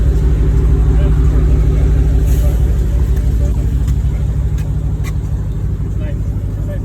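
A Dodge Hellcat's engine drones steadily with a deep, loud rumble that stays close and continuous, and a faint high whine rides along on top. People talk over the engine the whole time.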